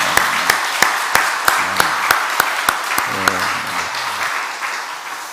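Church congregation applauding at a Monday dawn worship service: a steady wash of clapping with a sharp, evenly spaced beat of louder claps running through it and a low tonal hum underneath.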